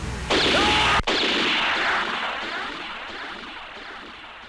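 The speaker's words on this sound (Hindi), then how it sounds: "गोली चल जाएगी।" Single loud gunshot in a Hindi action film scene, a sharp blast followed by a long, fading reverberant echo, heard alone without talk.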